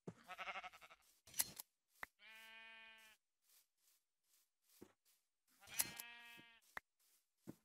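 Sheep in Minecraft bleat two or three times in short, clean, wavering calls. Brief clicks and rustles come between the bleats, against an otherwise quiet background.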